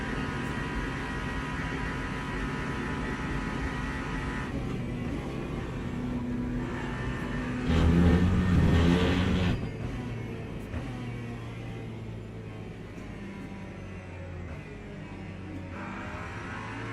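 Peugeot race car in a racing video game, its engine a steady droning hum that swells louder around the middle before settling back, continuous with no talking.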